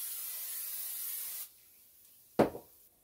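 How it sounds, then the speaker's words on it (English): Butter sprayed from a can onto a cabbage wrap in a pan: a steady close hiss of about one and a half seconds, then a short sharp knock with a small rattle after it. "Also going to spray it with some butter."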